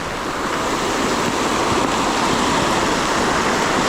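Dense, steady roar of heavy monsoon rain pouring down over floodwater in Konkan, loud and continuous with no voices, a broad wash of noise throughout.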